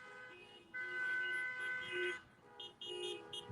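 Car horns honk from a passing Biden campaign caravan on a street, with overlapping sustained toots, a brief lull, then further short repeated beeps, moderately near and loud over background traffic.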